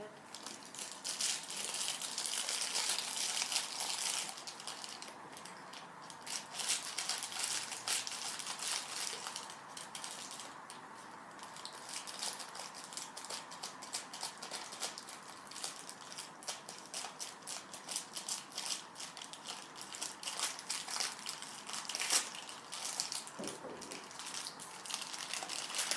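A plastic bag crinkles and crumples in steady close bursts while an LOL Surprise toy is unpacked, a fairly quiet, ongoing rustle with occasional light rattles and soft voices.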